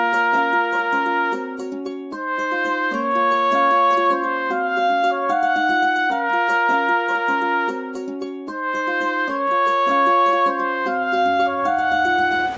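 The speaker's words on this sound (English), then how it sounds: "So I will just show y'all the Spaghetti Western trumpet," A sampled Spaghetti Western trumpet from a Kontakt library plays a legato melody of smooth, connected notes, bright and clear, alone without voices.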